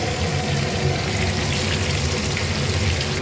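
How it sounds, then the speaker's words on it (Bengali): Bay leaf and cumin seeds tempering in hot oil for a fish curry with potato and eggplant, giving a dense, even, close sizzle that holds steady throughout with no voices. "এই তেলের ভিতরে আমি তেজপাতা দিলাম আর জিরে ফোড়ন দিলাম।"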